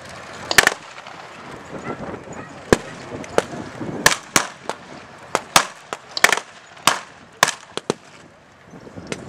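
Heavy gunfire from Russian forces in Chechnya, 1995, with assault rifles and machine guns: a dozen or so sharp, loud cracks in irregular bursts and single shots over a steady background hiss.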